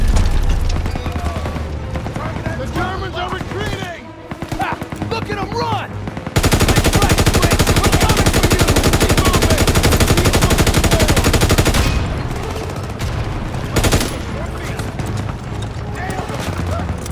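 Sustained automatic fire from the player's gun in Call of Duty: WWII rattles loud and close in one long burst, with sporadic battle gunfire and voices around it before and after.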